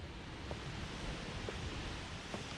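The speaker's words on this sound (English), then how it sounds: "now arrived at the waterfalls." Haew Suwat waterfall in Khao Yai National Park, Thailand, gives a constant, even rushing roar of falling water, heard alone and unbroken.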